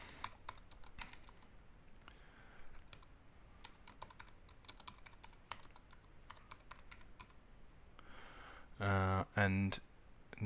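Someone types a commit message on a computer keyboard in SourceTree, a quiet stream of irregular key clicks with a couple of louder clunky presses near the end.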